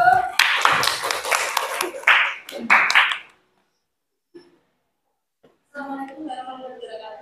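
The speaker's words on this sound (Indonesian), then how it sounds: "Tepuk tangan untuk kelompok 1." A small group of participants in an academic supervision session claps for the first presenting group for about three seconds, then falls silent before a voice begins speaking.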